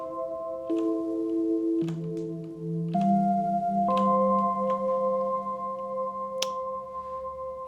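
Modular Eurorack synthesizer voices triggered from a keyboard, sounding as sustained electronic tones that step through several pitches in regular changes, clean and loud, with a sharp percussive click partway through and no talking.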